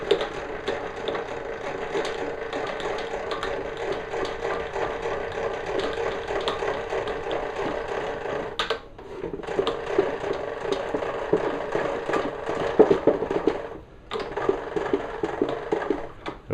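A Delta 22-540 benchtop planer's height adjustment handle being cranked by hand, giving a steady close ratcheting, mechanical whir that runs continuously with two brief pauses, no talking.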